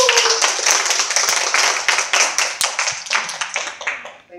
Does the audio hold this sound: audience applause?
yes